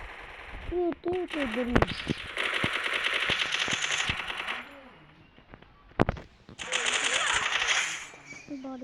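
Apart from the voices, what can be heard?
gunfire in a shooting video game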